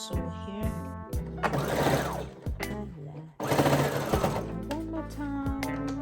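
A sewing machine stitches fabric in loud, close bursts of rapid needle chatter with short stops between runs, with music or voice-like tones playing underneath.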